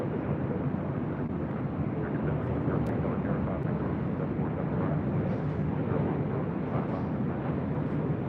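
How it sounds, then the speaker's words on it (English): A Southwest Boeing 737 MAX 8 jet arrives on runway 24 left at LAX, making a steady, fairly distant roar that hums on evenly throughout. "the Southwest 737 MAX 8 just arriving on 24 left"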